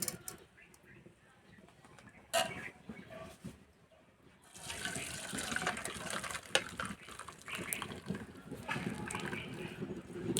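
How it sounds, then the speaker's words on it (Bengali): Water poured over strained chhena (cottage cheese) while making date-jaggery monda, a steady splashing and trickling that starts about halfway through and continues to the end, close by, after a quieter stretch with a few clatters. "উপর দিয়ে একটু জল দিয়ে দেবো,"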